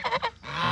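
A goose honks loudly nearby, two quick nasal calls followed by a longer drawn-out honk.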